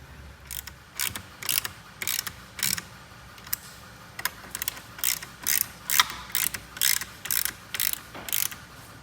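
A ratchet clicks in short repeated bursts while a screw is threaded into the frame of a KTM 790/890 Adventure motorcycle during a tail tidy install, crisp and close, with brief pauses between strokes.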